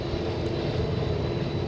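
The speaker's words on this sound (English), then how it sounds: "sound you're hearing is the engines being powered up." Airbus A380 jet engines spooling up for takeoff at Los Angeles International Airport, a steady broad roar heard from a distance, continuous and fairly loud, with no voices.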